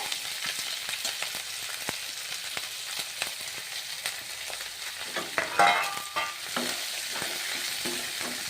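Onion and capsicum frying in hot oil in a pan for an upma recipe, a continuous crackling sizzle with repeated scraping stir strokes and a louder clatter midway.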